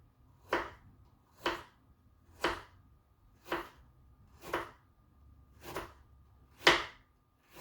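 Ginger or similar food is cut into slices with a knife on a cutting board, seven evenly spaced, crisp chops about one second apart, close and fairly quiet against a calm background.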